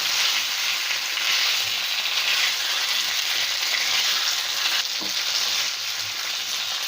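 Crispy love bite snacks are tossed in sauce in a frying pan, giving a loud, steady hiss and sizzle close by, with one faint knock partway through and no talking.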